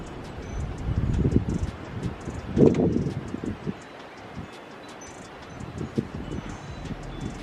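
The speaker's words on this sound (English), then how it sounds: "It's so windy." Strong, unusually fierce wind roars and gusts in broad low rumbling waves, swelling and easing over several seconds with faint rustling and distant higher tones above.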